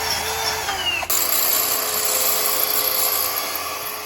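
A power drill whines steadily at high pitch as it bores a 3/16 hole through a steel vehicle frame and spring hanger, with a brief break before it resumes and grinds on without pause.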